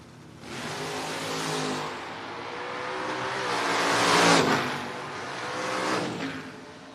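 Drag race cars launch at a no-box shootout and roar down the strip, a loud, sustained engine drone that swells and dips as they accelerate toward the top end, with a faint commentator voice underneath.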